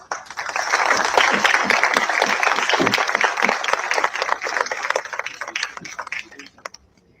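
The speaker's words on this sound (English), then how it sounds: "Please, with a big round of applause." Dense applause from a symposium audience during a felicitation at the 4th Indian DefSpace Symposium in New Delhi, steady and loud for about six seconds before quickly thinning out and stopping.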